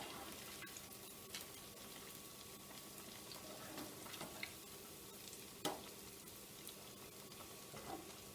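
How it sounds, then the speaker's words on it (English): Paneer-stuffed bread rolls fry in hot oil with a steady, close crackling sizzle, broken by scattered sharp pops and clicks as the rolls are turned. "Turn them around so all the sides are fried properly."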